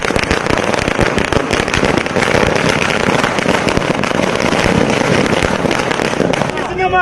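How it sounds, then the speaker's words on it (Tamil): Firecrackers bursting at an AIADMK party celebration, dense rapid crackling and popping bursts filling the air continuously, loud and close, with crowd noise mixed underneath. "அதிமுகவினர் பட்டாசுகள் வெடித்தும் இனிப்புகள் வழங்கியும் கொண்டாடி வருகின்றனர்"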